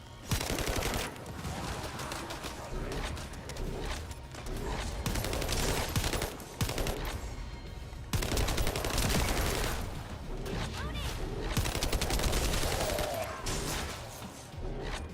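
Dense, continuous gunfire in The First Descendant shooter game: rapid automatic bursts and overlapping shots rattle loudly and closely for the whole stretch, with brief dips and barely a pause.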